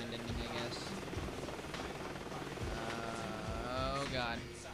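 Helicopters approaching in Jet Grind Radio, a steady rotor thrum and buzzing drone that swells louder toward the end, with a voice talking over it.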